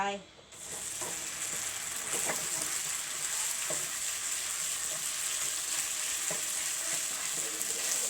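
Noodles stir-fried in hot oil in a pan over high heat, a steady bright sizzle running throughout with occasional scraping stirs, close and fairly loud, no talking.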